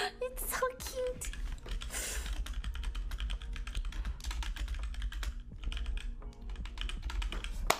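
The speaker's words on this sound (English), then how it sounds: "I had a good time typing." Rapid, steady typing on a computer keyboard during a gaming session, with dense clicking keystrokes running throughout at close range, fairly quiet.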